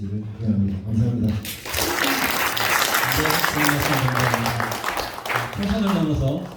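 A forum audience claps steadily and fairly loudly after a brief pause, while a voice talks over the start and end of the clapping.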